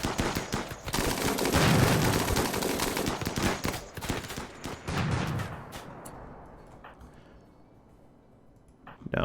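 Gunfire in the colony game RimWorld: dense rapid bursts of shots and clattering impacts crowd the first several seconds, then thin out to scattered pops, with someone talking over parts of it.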